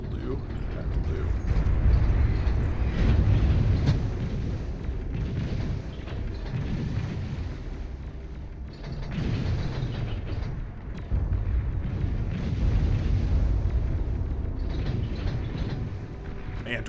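Torpedo bombers strike in the strategy game Beyond All Reason, with rumbling explosions and mechanical clatter swelling and fading in waves throughout, while a voice talks over the action.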